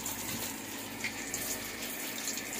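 Tap water runs steadily into a sink during a rabbit's bath, a constant close hiss and splash with no talk.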